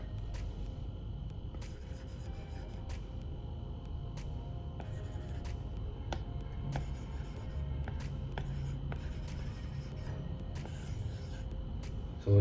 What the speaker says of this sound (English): when you are writing with Apple Pencil, this matte screen guard gives you a feeling that you are writing on something which is similar to paper